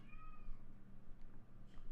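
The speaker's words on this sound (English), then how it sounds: "There's a cat." A cat lets out one short, faint meow near the start, then a couple of fainter calls follow over a low steady hum.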